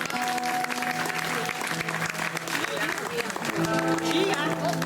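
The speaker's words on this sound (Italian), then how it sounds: "un applauso a Giuseppe" An audience claps and cheers at an outdoor summer event in Italy, the applause steady and full across the whole stretch. A voice and music ring over it, with sustained tones carrying through the crowd noise.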